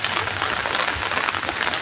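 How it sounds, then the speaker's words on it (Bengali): Steady rain pours down on a cattle farm during grass feeding, a dense, even hiss of drops hitting surfaces that fills the whole moment without pause. "এই বৃষ্টির ভিতরে এই পর্যন্ত আমি এখনো বৃষ্টিতে ভিজতেছি।"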